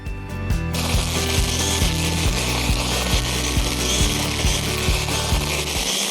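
A battery string trimmer whirs steadily with rhythmic pulsing ticks as the line whips through grass, loud and close, no talking.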